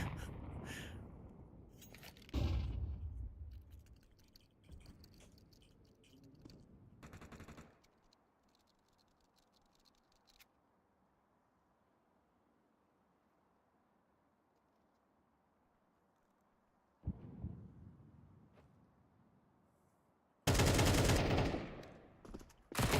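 Bursts of AK rifle fire crackle in a professional video game match, short loud volleys at the start, around seven seconds and again near the end, separated by a long quiet stretch.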